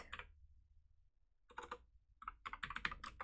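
Quick, close clicks of fingers typing code on a computer keyboard come in short uneven bursts around a brief pause, quiet and with no talking.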